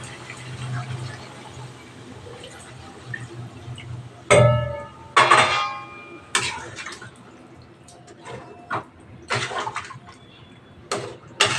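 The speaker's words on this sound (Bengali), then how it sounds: "এবার আমি জল দিয়ে দেব।" Water poured into a pot of braised meat, a sudden splashing gush at mid-clip followed by a few shorter splashes and pouring bursts, close and fairly loud, with low kitchen hum between.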